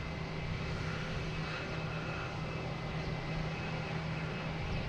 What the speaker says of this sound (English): we have Southwest coming in from Nashville